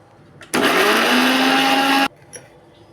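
A mixer grinder blending onions and tomatoes whirs loudly for about a second and a half, starting and stopping abruptly, with quiet surroundings before and after.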